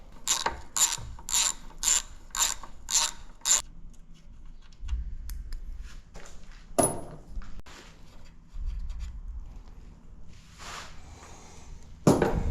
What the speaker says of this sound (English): to remove these pan bolts